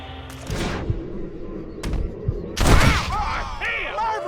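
Gunshots in a Red Dead Redemption gunfight, a few sharp reports and thuds spaced apart, with a louder blast near the end followed by a ringing tail and game sounds; a voice is briefly present.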